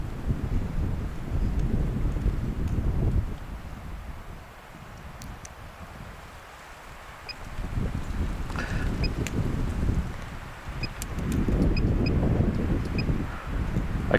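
Strong wind blusters across an outdoor microphone during a long range drone flight, a heavy low rumbling roar that swells and eases in gusts, with faint high tones in the background.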